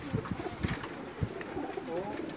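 A young pigeon coos in low, repeated murmurs close by while other birds and faint background sounds blend in, with occasional soft thumps.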